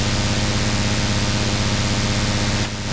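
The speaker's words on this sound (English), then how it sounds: "Interstellar Radio is great to turn a sine wave into a massive wall of noise" A sine wave pushed through an Interstellar Radio module into a massive, loud, dense wall of noise with a buzzing, engine-like drone, holding steady and dipping briefly near the end.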